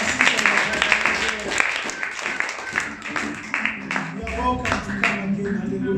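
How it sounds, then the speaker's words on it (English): A church congregation claps at a Sunday service, scattered uneven hand claps mixed with voices and a low musical or crowd hum that swells in the final seconds. "Let's clap for us."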